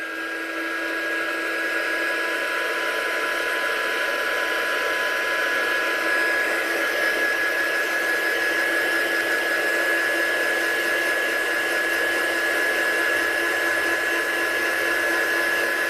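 A hair dryer blows steadily and loudly at close range, drying a craft project, with a constant whine and rushing air that hold without a break throughout.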